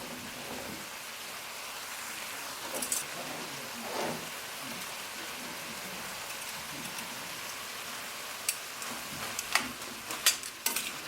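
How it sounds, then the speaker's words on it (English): Nopales curry with cilantro simmers in a covered pot, a soft continuous bubbling hiss with occasional faint clicks and pops, close and quiet, no voices. "cover and let it simmer for about 10 minutes"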